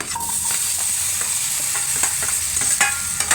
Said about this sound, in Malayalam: ഒരു പാൻ വെച്ച് അതിലേക്ക് ആവശ്യത്തിനുള്ള നെയ്യ് ഒഴിച്ചിട്ട് പഴം നമുക്ക് വാട്ടിയെടുക്കാം